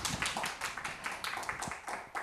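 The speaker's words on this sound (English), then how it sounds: "Big applause." Live audience at an Edinburgh Festival show claps steadily throughout, a dense burst of many hands that stays loud from start to finish with no voices on top.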